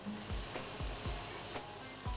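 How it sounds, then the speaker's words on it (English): Soft, steady sizzling of kebabs frying in a pan, with a few faint low knocks as pieces shift, quiet and close. "Frying away."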